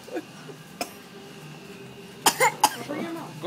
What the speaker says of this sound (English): Cover your mouth when you're coughing.